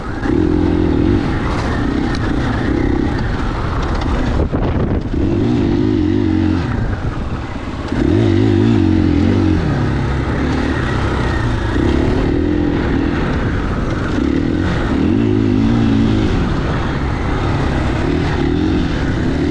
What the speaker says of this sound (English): it's pretty much a dirt bike that I just don't have to load up in the back of a truck